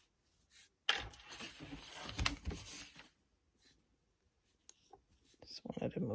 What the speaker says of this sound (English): Just wanted to move that paper.